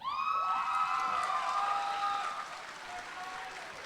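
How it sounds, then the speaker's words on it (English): Applause from an audience at a JROTC annual awards ceremony, honoring cadets who qualified for the state drill competition; steady clapping with a ringing tonal sound over it that fades after about two seconds, softening toward the end. "Please join me in a round of applause for these cadets who qualified for the state drill competition on April 15th, 2024."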